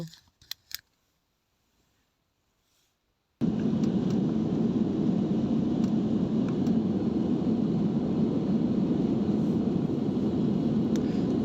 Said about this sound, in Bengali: আগের বিমানের তুলনায় এই বিমানটা একটু বেশি গতিতে চলেছিল